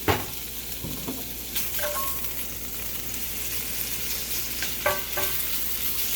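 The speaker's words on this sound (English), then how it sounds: "Go ahead and add the bacon in there." Chopped bacon frying in a hot skillet makes a continuous moderate sizzle, with a sharp thump as it goes in and occasional utensil taps and scrapes.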